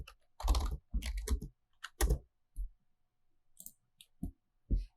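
Bursts of typing on a computer keyboard, clustered clatters of keystrokes separated by pauses, close and fairly quiet with no talking.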